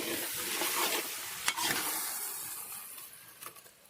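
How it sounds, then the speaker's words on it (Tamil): Rabbit pepper roast is stirred in a cooking pan outdoors, a steady close sizzle and frying hiss with a couple of sharper scraping strokes of the spoon, no voices. "நல்லா கிண்டி விட்டுக்கலாம்"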